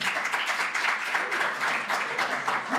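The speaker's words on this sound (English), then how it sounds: "Clap if you are familiar with Musical Monday at all." A small audience at a musical comedy show claps sparsely, individual hand claps audible in a thin, moderately quiet patter.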